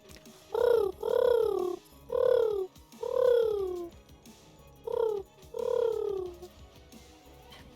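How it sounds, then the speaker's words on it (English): Bird calls from the video game Library of Ruina: six soft, cooing swoops in two clusters separated by a short pause, close and clear over a quiet background. "Bird sound delivered."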